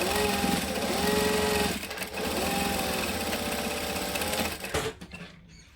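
A sewing machine stitches down the side of a bag in a fast, steady buzzing run, pausing briefly before resuming and then stopping near the end, loud and close.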